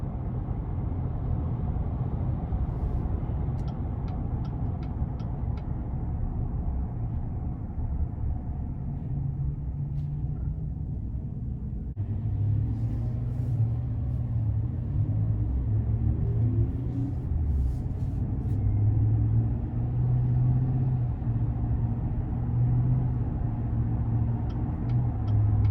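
Cabin drone of a 2021 GMC Sierra 1500 Denali Ultimate with the 6.2 V8 under way, a steady low engine and road rumble with the pitch climbing and dropping as the 10-speed automatic shifts, continuous with no talking.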